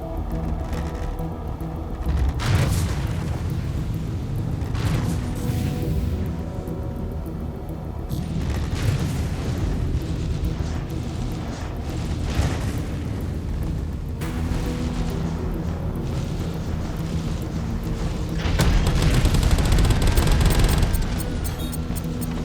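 Ares Inferno starfighter attacking shields in Star Citizen: loud sustained rumbling gunfire with repeated heavy booms and impacts across the stretch, swelling louder near the end.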